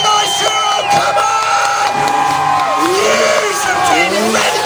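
At an FMX freestyle motocross show in Truro, a large crowd screams and cheers continuously. An amplified announcer's voice shouts over the din.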